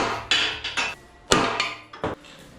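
Sharp, close metallic hammer blows, about seven in irregular pairs and singles, punch a bearing out of an old VW gearbox case.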